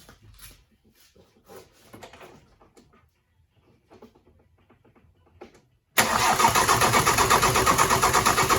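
An old Ford Transit diesel with freshly refitted injectors fires up abruptly after a few seconds of faint, quiet background sounds, then settles into a loud, steady, close rattling run.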